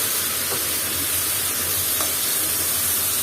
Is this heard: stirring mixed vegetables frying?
yes